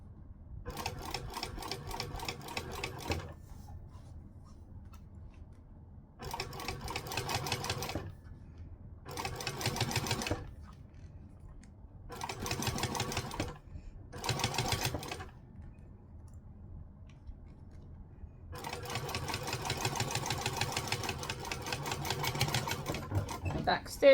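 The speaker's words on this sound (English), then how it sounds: "I'm then going to stitch 1/8 of an inch from the folded edge" Sewing machine stitching a seam an eighth of an inch from a folded fabric edge, running in rapid mechanical bursts of several seconds separated by short pauses, close and moderately loud.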